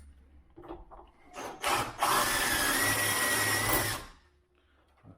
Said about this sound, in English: I'm going to have to try and drill a bit more.